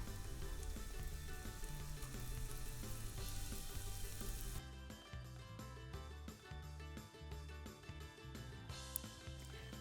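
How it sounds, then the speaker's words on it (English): Meatballs browning in a pan of butter and olive oil give a steady, loud sizzle that runs unbroken, with crackling spatter and scattered pops across the whole stretch. "I start with browning the meatballs"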